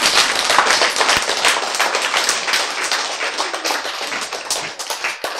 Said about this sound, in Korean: 박수만 치면 된다니까!